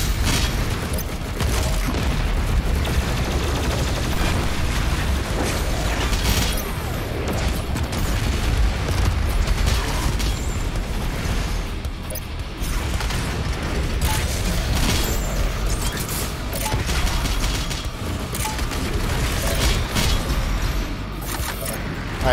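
Rocket explosions and heavy gunfire in Doom Eternal's The Ancient Gods, Blood Swamps level: dense, continuous booms and bursts of weapon fire filling the whole stretch, loud and chaotic with no pause.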